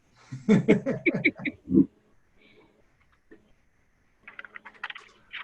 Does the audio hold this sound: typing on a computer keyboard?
yes